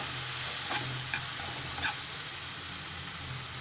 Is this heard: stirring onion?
yes